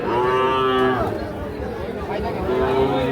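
At the Ambari cattle market, a young bull calf gives two loud, drawn-out moos, one at the start and another near the end, close by, with buyers and sellers talking throughout.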